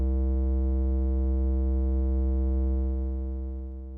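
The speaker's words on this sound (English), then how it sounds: "uses abstract sounds that both raise in pitch and grows in intensity and in density" Abstract synthetic data-sonification tones form a steady stack of pure harmonic pitches that hold loud and dense for about three seconds, then fade gradually, with no voices.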